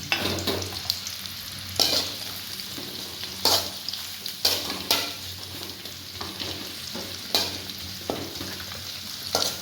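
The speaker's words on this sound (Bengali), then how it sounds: "আমাদের চালটা 1 মিনিট হয়ে গেছে ভাজি" Rice and sliced onion frying together in oil for pulao, a steady sizzle broken by repeated scraping stirs at irregular intervals, near and fairly loud, with a faint low hum behind and no speech.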